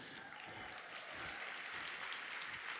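Audience applause at a leadership retreat, a steady wash of clapping from a crowd indoors that builds slightly and continues throughout.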